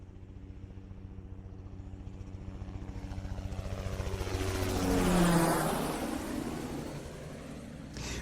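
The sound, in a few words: helicopter approaching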